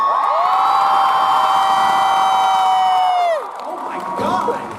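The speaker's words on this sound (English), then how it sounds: "Holy shit, it's a big crowd too." A large convention audience of thousands at a JAXCON 2016 celebrity panel cheers loudly, with one long, high sustained whoop ringing over the roar for about three seconds before it drops into a lower crowd murmur.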